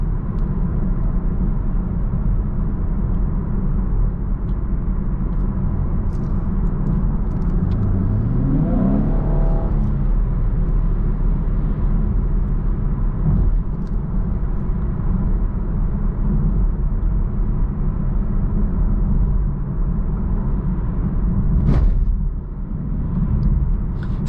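Cabin view of a 2019 Chevrolet Camaro 1LT driving through corners, a steady loud engine and road rumble with a brief rising rev partway through, heard alone without talk.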